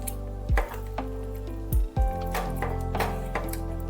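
A ladle stirs ridge gourd and gram flour curry with coriander in a pan, giving a few close, soft scraping and squishing strokes against the metal over a faint background, with no one talking.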